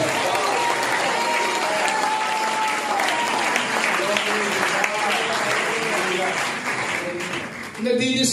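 A congregation at a Sunday revival worship service claps steadily together, a loud, dense applause filling the room while a voice carries over it, fading slightly at the end.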